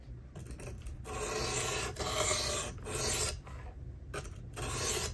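A knife blade is drawn across a fine 600-grit diamond plate on a Work Sharp Professional Precision Adjust sharpener, giving steady rasping strokes in a repeated back-and-forth rhythm, close and alone.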